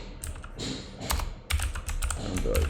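Computer keyboard typing in quick irregular bursts of clicky keystrokes, close and fairly loud, with no talk.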